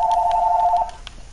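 Phone rings briefly during a Fortnite match, a single short electronic ringing tone lasting under a second, loud and close, followed by faint game noise.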